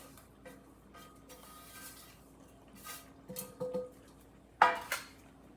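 Almonds stirred in a metal pot while making almond barfi: a few soft scraping and clinking sounds, growing into sharper knocks of a utensil against the pot toward the end, fairly close with no talk.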